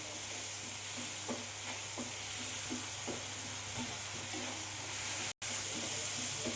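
Ground tomato frying with spices for paneer masala, a constant sizzle under regular, rhythmic scrapes of a spoon stirring the pan, close up, with a brief dropout near the end.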